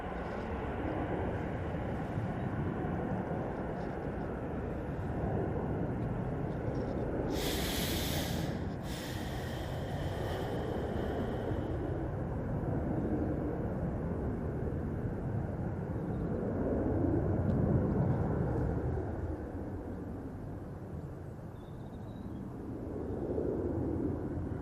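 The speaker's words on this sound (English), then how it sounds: "there's a lot of aircraft in the background, mate" Aircraft at Manchester Airport fill the background with a steady, broad jet roar that swells and fades slowly, distant but continuous, with brief bursts of nearer noise and no talk.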